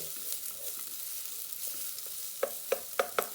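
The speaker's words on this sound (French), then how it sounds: "je vais mélanger l'oignon jusqu'à qu'elle devienne translucide" Chopped onion fries in a pan during preparation of a Thai coconut milk soup, with a steady soft sizzle under a few distinct scraping stir strokes toward the end.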